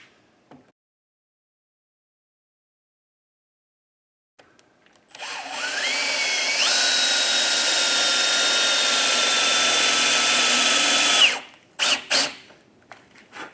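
After a silent stretch, a power drill whines up to speed and runs steadily for about six seconds drilling a dowel hole before stopping, followed by a few handling clatters.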